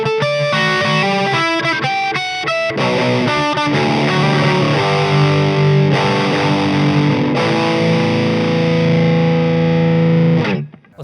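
Heavily distorted electric guitar in drop D tuning playing a busy bridge riff from a song, with fast rhythmic chugs and sustained chords that ring out and cut off abruptly near the end.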